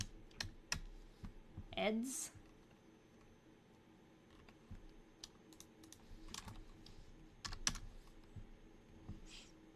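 Typing on a Logitech K520 Bluetooth keyboard comes through as quiet, scattered bursts of key clicks, soft and close, with short pauses between flurries and a brief voice partway through.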